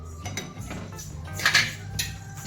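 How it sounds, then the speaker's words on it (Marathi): A spatula scrapes and clinks against a pan while a mixture for sheera is turned once or twice, giving a few sparse metallic taps and scrapes over a low background hum. "तू उलटाण्याने आपल्याला एकदा दोनदा परतायचं आहे"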